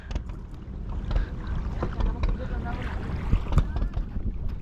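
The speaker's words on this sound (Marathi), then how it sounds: "हा जे बोट आयले बघा" Fishing boat approaching on open water, a close engine rumble and wash under gusty wind, with scattered knocks and voices nearby.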